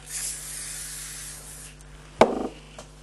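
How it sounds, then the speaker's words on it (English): A brief hissing of cooking spray near the start, then a sharp clatter and soft rustling, close up in a quiet kitchen. "I'll spray again."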